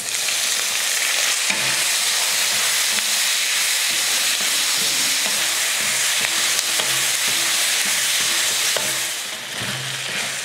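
Tomatoes and onion sautéing in a pan for chutney: a loud, steady frying hiss with rhythmic stirring scrapes layered on top, heard close and without any voices.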